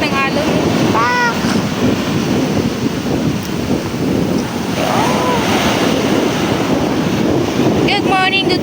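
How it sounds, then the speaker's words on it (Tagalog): Large ocean waves crashing onto a beach at New Washington, Kalibo, Aklan, a loud continuous roar of surf with heavy wind buffeting the microphone, while people talk briefly over it. "Ay, laki ng alon."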